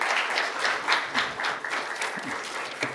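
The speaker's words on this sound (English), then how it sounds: "A big round of applause for Rajendra sir." A conference audience at an international Olympic research conference claps steadily, with dense applause that swells and dips in waves, fairly close and without talk.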